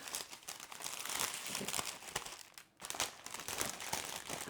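Tissue paper crinkles and crumples in bursts as it is shaped around a wrapped bottle, close and crisp, with a brief pause partway through and no speech.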